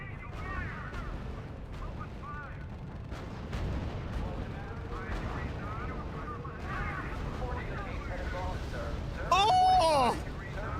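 Artillery booms and gunfire from a World War II D-Day battle in the strategy game RUSE, a steady rumble of distant shots and blasts under in-game voices, with a sharper burst of effects near the end.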